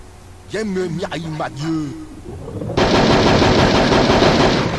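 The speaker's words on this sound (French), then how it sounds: "Une mitraillette." Someone speaks briefly, then a loud, dense burst of machine gun fire from the video game Hogs of War takes over and runs steadily to the end.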